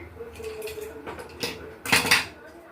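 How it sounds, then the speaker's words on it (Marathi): A few metallic clanks and scrapes of a cooled pressure cooker lid being handled and lifted, ending in a louder rattle; no speech. "इथे कुकर पूर्णपणे थंड झालेला आहे आता आपण उघडून घेऊया"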